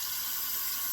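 Water runs steadily from a tap, a continuous close hiss used to wet shaving lather during a straight razor shave.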